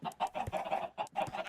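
Chicks in a video game give a quick series of soft, close clucks and peeps in a short rhythmic burst.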